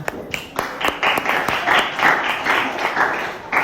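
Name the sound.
applause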